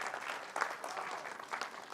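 Crowd applause at a business felicitation event in India, a continuous wash of many hands clapping at moderate distance, steady for the full two seconds.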